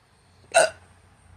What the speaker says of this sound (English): I got hiccups.